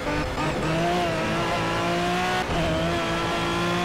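A race car engine in the video game Project CARS on PS4 drones loud and close, its pitch climbing and dropping through gear changes, with a brief tire squeal and no talk over it.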